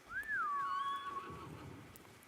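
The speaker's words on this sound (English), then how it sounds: "Here comes my horse." A horse in Ghost of Tsushima lets out a single loud, sweeping whinny over soft hoof clops and a low ambient backdrop.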